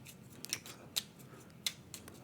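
Unique tier 5 specialist cards for the Endeavor: Deep Sea board game being shuffled by hand, a few quiet, crisp riffles and snaps spaced out over a soft, steady room background.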